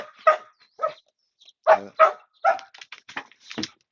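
Several puppy dogs bark and yip in short, sharp bursts, close and loud, with brief whimpering gaps between the barks.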